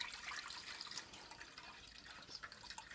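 Cooking juices and seasonings poured from a dish into a pot, a steady wet splashing and trickling with scattered drips, fairly close and moderately loud, with no talking.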